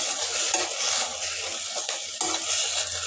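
Spices and sauces for fried rice being stir-fried in a pan, a steady close sizzle with scraping stirring strokes throughout.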